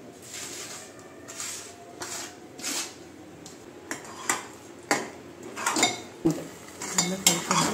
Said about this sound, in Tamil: நல்லா பாகுபதம் வர வரைக்கும் நல்லா கலந்துக்கலாம்.